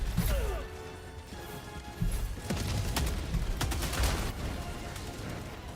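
Loud video-game gunfire in a battle with a tank nearby, dense overlapping shots and crashing impacts throughout, with heavier bursts partway through.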